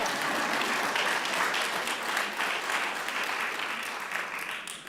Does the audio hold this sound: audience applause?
yes